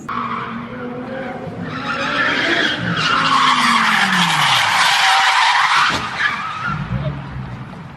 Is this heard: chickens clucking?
no